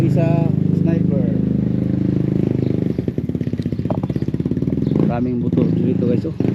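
A crowd of motorcycles stuck on a muddy, blocked road, engines idling and one revving in a rapid pulsing putter, with voices talking over the noise.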